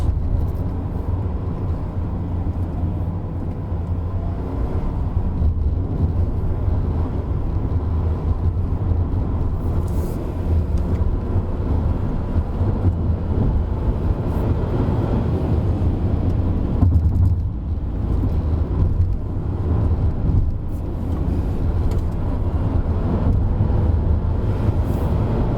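A Proton X50, a B-segment car, heads back down the Genting hill, its engine and road noise a steady, loud low rumble throughout with no break.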